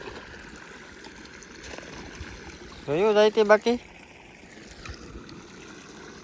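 Irrigation water flows steadily through a farm channel, a continuous soft rushing wash that runs throughout, while a voice briefly speaks over it near the middle.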